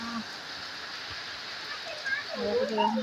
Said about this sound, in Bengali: বৃষ্টি আসছে আলহামদুলিল্লাহ